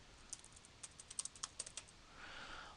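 Keys clatter on a computer keyboard as a club name is entered: a quick, quiet run of about a dozen close, crisp taps, followed by a soft hiss of room noise, with no voices.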